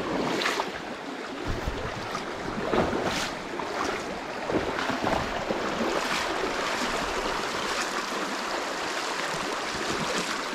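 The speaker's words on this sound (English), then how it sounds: "So many little rapids up and down." Small rapids in a shallow, fast-flowing trout stream produce a continuous rushing, splashing wash of water, fairly close and steady, with faint gusty swells and no voices.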